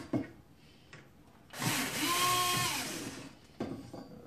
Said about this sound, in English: We'll just back out one of the screws here.